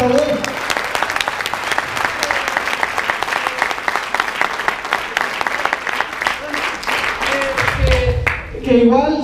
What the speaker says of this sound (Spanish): un aplauso para Rudy Ferraro